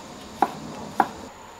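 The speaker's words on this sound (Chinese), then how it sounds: "再切根葱白，起锅的时候放更香" A knife chops scallion whites on a cutting board: two crisp, close taps a little over half a second apart against a quiet kitchen background.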